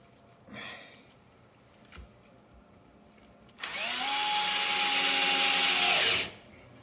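A power screwdriver drives a screw into a wooden cord clamp jig, starting with a few faint taps and a short test burst before a loud, steady whirring run of about three seconds that stops abruptly.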